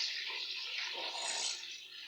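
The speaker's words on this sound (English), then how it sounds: "Rinsing nappies." Water runs steadily from a tap as nappies are rinsed under it, giving a continuous, even hiss and splash that is close and moderately quiet, with no talking.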